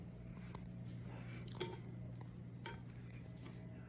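Polenta is served onto a serving dish: utensils clink and scrape against the dish, with a few sharper taps standing out over a quiet kitchen background, close and intermittent.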